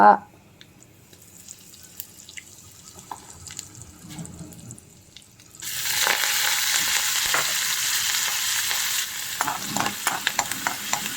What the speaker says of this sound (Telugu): ముందు సన్ డ్రాప్ ఆయిలే వేసాను ఇప్పుడు ఇంగువ